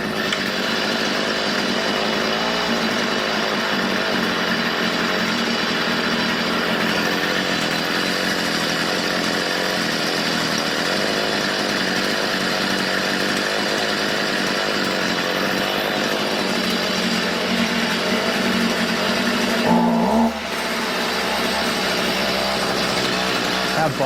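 A Stihl weed eater engine running lean after a carburetor adjustment, a loud, continuous buzzing whine near the mic that holds steady for about twenty seconds before it suddenly bogs down and drops to a lower rumble.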